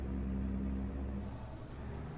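A heavy truck engine in American Truck Simulator drones steadily at close range, with a high turbo whine running over the low rumble throughout.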